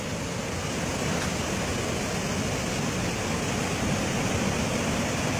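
A waterfall pours in a steady, loud broadband rush of falling water that fills the scene without pause, no voices over it.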